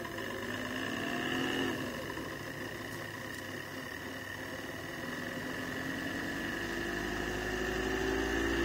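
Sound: self-pulsing circuit rotor spinning counterclockwise

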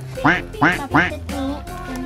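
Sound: toy duck-catching game set quacking

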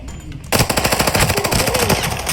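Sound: machine gun fire in the video game Arena Breakout

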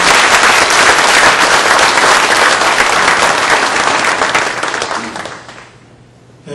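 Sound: party members applauding at Democratic Party ceremony

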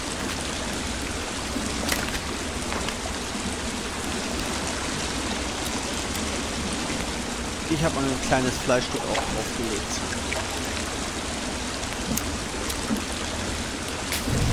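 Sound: loud waterfall in a video game

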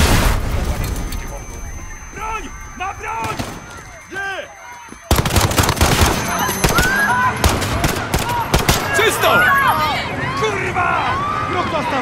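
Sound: gunfire in Call of Duty Modern Warfare 3 video game

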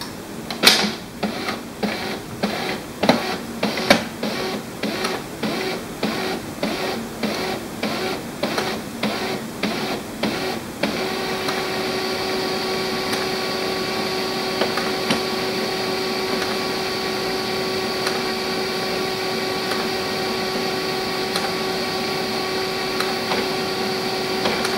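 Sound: HP LaserJet MFP laser printer powering on and starting up

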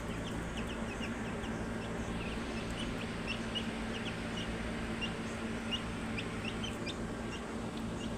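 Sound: hill chicken chicks clucking

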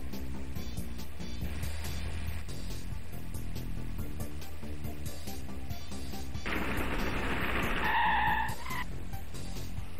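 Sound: VAZ-2101 car skidding in handbrake turn, racing video game

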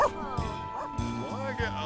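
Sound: dog barking

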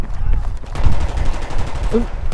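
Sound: gunfire in the video game Battlefield 3

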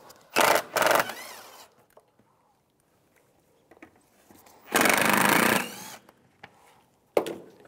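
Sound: removing screws with T25 socket

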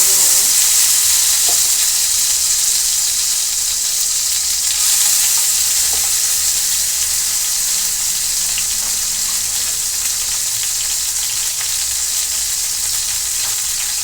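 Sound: frying chopped chilli and garlic in oil

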